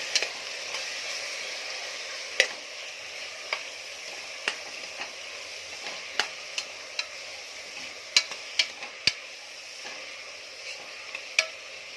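Ground masala paste for white kushka chicken gravy roasts in a pan in a small home kitchen, giving a soft steady sizzle broken by scattered sharp ticks and pops, with no talk.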